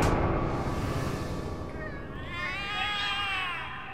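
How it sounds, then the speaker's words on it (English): Cats in The Cat Lady video game meow and yowl in long, wavering, drawn-out cries that rise and fall, loud and close over a dense background drone, with no talk. "The cats are alarming."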